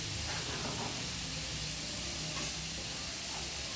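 Shrimp fries in a pan with onion and tomato paste, giving a soft, even, continuous hiss at low level with no distinct pops and no talk.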